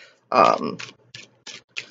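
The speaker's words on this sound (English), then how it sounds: "I'm just gonna shuffle the deck" Tarot cards shuffled by hand: a dense papery riffle burst up close, then several short rustling flicks at an even pace, with a quiet voice at the very start.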